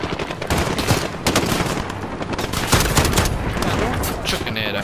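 Rapid gunfire fills a firefight at an embassy residence in Call of Duty: Modern Warfare, with dense overlapping shots and bursts continuing throughout, loud and busy with faint voices mixed in.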